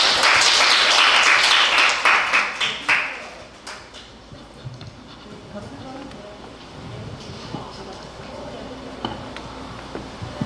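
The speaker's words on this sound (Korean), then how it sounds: "두 분을 위해서 박수 한 번으로 먼저 감사드립니다" Audience applause at an art gallery artist talk, a brisk burst of clapping for about three seconds that fades into room murmur, with a few soft taps and quiet voices afterward.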